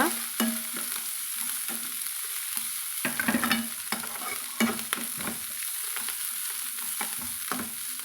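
Sautéed onions being stirred in hot oil: repeated close scraping strokes of a spatula through the pan at an irregular rhythm, over a continuous gentle sizzle.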